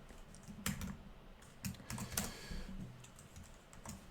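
Typing on the mechanical-switch keyboard of a Tuxedo Stellaris 16 Gen5 laptop: close, irregular clacking keystrokes with a few sharper louder hits, heard alone with no talking.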